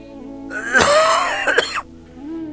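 A man coughs and clears his throat in a harsh, wheezy burst of about a second, loud and close, with quiet room tone before and after.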